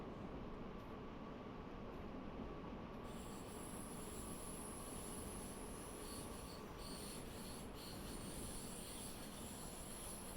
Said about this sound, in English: Now I'm letting the train coast down to about close to 60.